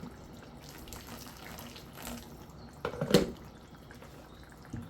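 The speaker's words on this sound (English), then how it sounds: "I'm gonna add the water from the kettle inside." Hot water poured from a kettle into a cooking pot of pumpkin rice and fish, a brief splashing burst near the middle over a low steady background, moderately close and short-lived.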